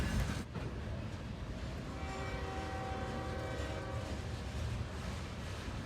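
A Norfolk Southern ES44DC freight locomotive, running long hood forward on the Valdosta District in Georgia, rumbles past loudly, its horn sounding a sustained chord for a couple of seconds over the steady roar of the moving train.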